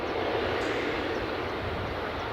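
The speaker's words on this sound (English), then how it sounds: "United 757 taxiing" A United Boeing 757 airliner taxis at an airport, its engines giving a steady, continuous broadband roar that holds level throughout without talk.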